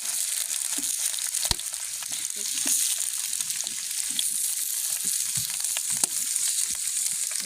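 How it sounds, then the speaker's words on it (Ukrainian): Steady, crackling sizzle of potatoes frying in a pan, continuous and close, with occasional pops and scraping stirs. "Ми вже смажимо картоплю."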